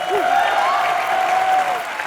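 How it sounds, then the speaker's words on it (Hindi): Studio audience on an Indian comedy show applauds steadily, a dense burst of clapping lasting about two seconds, loud and close, with a sustained tone running underneath. "ठोको ताली गाने के लिए"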